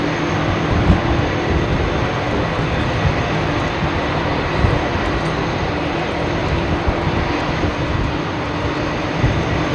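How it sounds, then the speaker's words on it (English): Steady broadband jet roar of an Etihad Boeing 787 Dreamliner rolling out for departure at London Heathrow, a continuous even rumble with no breaks. "There's your Etihad Dreamliner rolling out."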